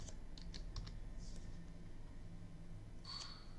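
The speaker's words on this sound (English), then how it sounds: "If we press buttons on keyboard," Scattered keystrokes on a computer keyboard, a few quiet clicks early on and a short burst near the end, faint over a steady hum, with no talking.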